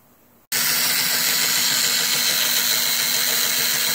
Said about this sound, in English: I'm going to try to video the boring procedure.